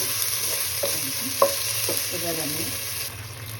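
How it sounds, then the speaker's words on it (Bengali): Spices sizzle in hot oil for a katla fish curry with salt and turmeric, while a spoon scrapes and stirs the pan in a few distinct strokes over the steady frying hiss. "মশলাটা ভাজা ভাজা হয়ে গেছে।"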